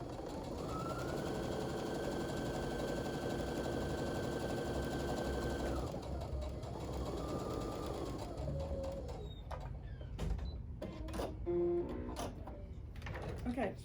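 A sewing machine stitches along both sides of a half square triangle quilt block in a long steady run of whirring. Then it stops, and fabric handling and soft clicks follow while someone talks.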